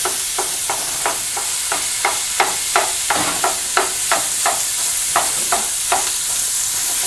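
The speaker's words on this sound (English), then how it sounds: "You just want to start letting your ingredients get nice and sauteed" Ground pork sautéing in a pan for a tamale pie hot dish, steady sizzling broken by regular, evenly spaced scrapes of a utensil stirring the meat.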